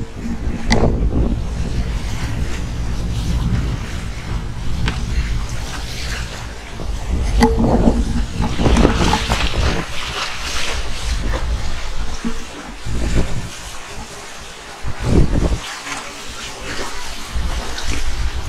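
A sailing vessel cuts through waves in open water, with strong wind buffeting the microphone and water rushing and splashing against the hull in uneven surges.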